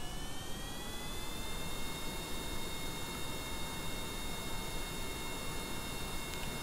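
Aircraft engine in Kerbal Space Program (RP-1) throttling up on a test landing approach, a steady broadband roar with whining tones that rise gently, continuous and fairly quiet throughout.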